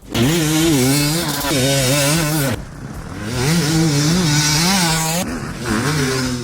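A KTM 250 two-stroke carburetted motocross bike engine is ridden nearby, revving loudly and rising and falling in pitch through several throttle bursts, with a brief dip between runs.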